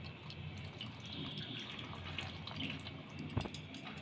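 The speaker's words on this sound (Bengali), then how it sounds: "বেগুনগুলো ভালোভাবে ধুয়ে নিয়েছি" Cut eggplant pieces washed in water, a soft continuous swishing and trickling at low level, with one brief louder splash near the end.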